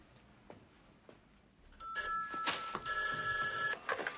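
An old-style telephone rings with a bright electronic trill, starting midway after quiet room sounds and sustaining for about two seconds, close and clear.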